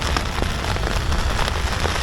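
Rain drumming steadily on a camping tent, a dense continuous patter of drops with occasional louder taps, close and fairly loud with no voices.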